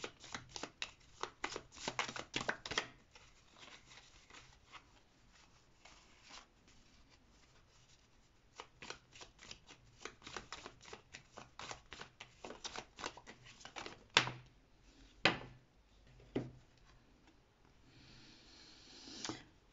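A deck of cards is shuffled close by in a quiet room, with bursts of rapid riffling flutters and sharp snaps, pauses between bursts and a few louder slaps near the end.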